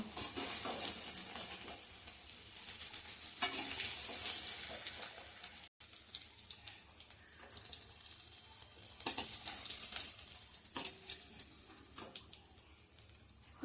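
Soya chunks frying in hot oil in a home kitchen pan give a steady, dense sizzle across the whole stretch, with scraping stirs now and then and one brief cut-out near the middle; no one speaks.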